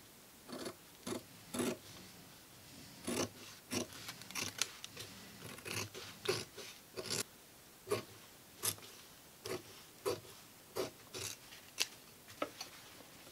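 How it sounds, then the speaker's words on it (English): Fabric scissors cut through two pinned layers of cotton around a face mask pattern, giving a steady series of crisp, close snips at a roughly regular pace. "we're going to cut that out right now"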